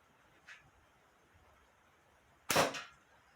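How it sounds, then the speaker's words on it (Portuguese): Slingshot fired with heavy 10 mm ammunition, the band slapping the fork: a faint tap early on, then one sharp, somewhat muffled crack close up, followed by a short tail and quiet. "mostrar o som que a fita faz quando ela dá uma pancada na haste do estilingue"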